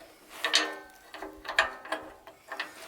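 Small metal clicks and scrapes as a square nut and plate are fitted on the deck of a Wood-Mizer sawmill, several sharp close ticks in an irregular rhythm over a few seconds.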